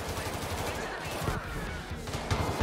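A grenade goes off during a video game shooting match, a loud blast set amid dense, rapid bursts of gunfire that fill the whole moment with little pause.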